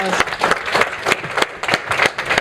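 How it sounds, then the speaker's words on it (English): An audience at a workshop training session claps in a dense, steady burst of applause lasting the whole moment, loud and close, with no voices standing out above it. "And Andrew, a big round of applause."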